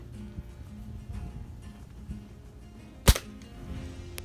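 One sharp crack of an airgun pellet striking a hard hat, heard once against a faint background hum.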